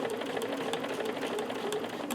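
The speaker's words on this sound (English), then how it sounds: "So I'm just going to keep sewing" Sewing machine stitching binding on a quilt, a rapid rhythmic needle chatter running continuously at close range, brief and alone without talk.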